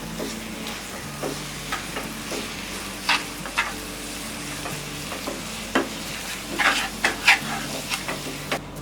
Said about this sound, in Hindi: इसमें डालेंगे ये 3 टेबलस्पून घी, और इसे कंटिन्यूअस स्टर करते हुए हम इसे कुक करेंगे।